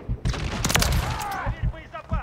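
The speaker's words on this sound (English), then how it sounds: "they're shooting at the damn equipment behind us" Rapid bursts of gunfire crackle in Call of Duty DMZ zombies mode, loud and close, with automatic fire rattling under a player's talk.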